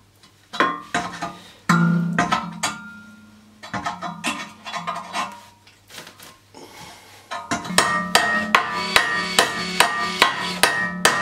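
A hammer strikes metal tongues, bending them outward on a welded steel rocket stove. The close, loud, ringing clanks come in quick bursts with short pauses, building into a steady, rapid run of blows at the end.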